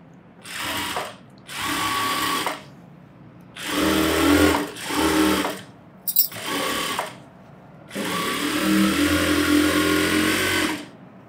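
A sewing machine stitches around the lining of a blouse cut for a 12-year-old child. It runs in six close, loud bursts of steady whirring, each separated by short pauses, with the last run the longest.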